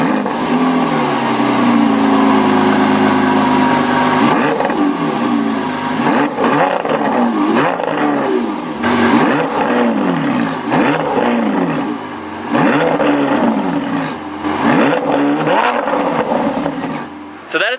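A 2019 Lamborghini Aventador SVJ engine revs loudly through its dual exhaust, rising and falling in repeated sweeps with a steady roar underneath, close by.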